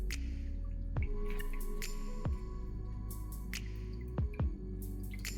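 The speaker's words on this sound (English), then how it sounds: "you're gonna put it in a ball and you're gonna squeeze out all the water" Blanched food squeezed by hand into a ball to press the water out, giving several short wet squishes and drips spaced a second or so apart over quiet kitchen background.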